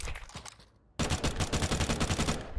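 Rapid automatic gunfire in Counter-Strike 2, a dense, loud burst of evenly spaced shots that kicks in abruptly after a short lull with a couple of faint earlier shots.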